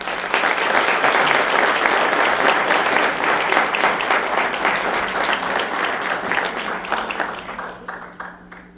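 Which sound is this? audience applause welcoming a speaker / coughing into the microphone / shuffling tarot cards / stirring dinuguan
audience applause welcoming a speaker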